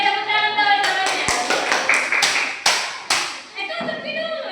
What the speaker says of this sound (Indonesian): Oke, tepuk tangan dong jawabannya.